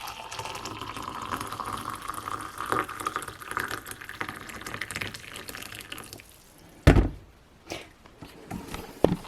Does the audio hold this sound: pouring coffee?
yes